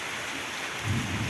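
Rain falls as a soft, even patter with a low rumble swelling near the end, faint and steady with no voices present.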